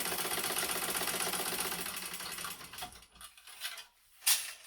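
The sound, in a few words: sewing machine stitching side seam of a clutch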